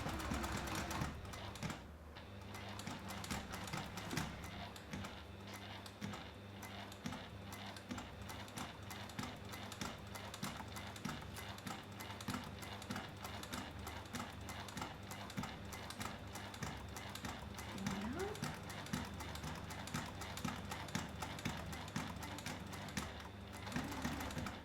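A sewing machine stitches a double-zip bag in a steady, quiet mechanical patter that runs almost the whole time, with small pauses in the rhythm.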